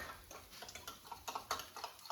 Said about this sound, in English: And mix this with a fork